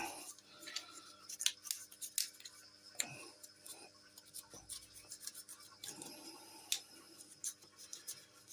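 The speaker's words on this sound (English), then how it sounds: "You do want to clean out all your bits of dust and that." A tiny paintbrush sweeps dust out of a Crosman DPMS SBR air rifle, making faint, close scratchy bristle strokes and small ticks in irregular bursts against a quiet background.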